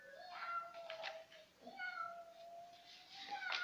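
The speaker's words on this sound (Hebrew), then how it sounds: "החתול ברקע." A cat somewhere in the background lets out two long, drawn-out meows, the second rising and stretching on, fairly soft and at a distance.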